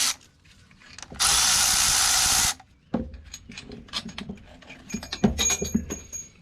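A power tool spins out cylinder head bolts on a KA24E engine in a 1978 Datsun 620 4x4, giving one loud, steady whirring burst of about a second, then a stretch of clinks and rattles of parts being handled.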